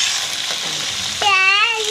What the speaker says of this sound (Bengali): মাছ ভাজা মোটামুটি হয়ে গেল, এখন তুলে নিব।